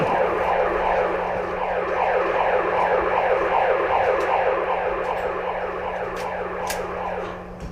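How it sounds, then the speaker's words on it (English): A steady, droning siren sounds continuously at an indoor airsoft field in a factory setting, with a constant hum underneath and a few faint clicks and knocks over it. "We gotta wait till the siren's off before we can head back to our objective."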